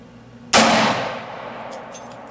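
A single sharp pistol shot, from either a 7.62x25 or a 9mm handgun, is fired over a chronograph outdoors and cracks loudly, then leaves a short ringing decay and a couple of faint clicks.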